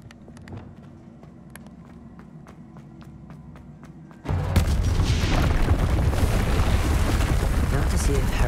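A Depulso force spell is cast in Hogwarts Legacy, bursting in as a sudden loud rushing blast midway that holds as a dense roar over quieter game ambience with faint ticking.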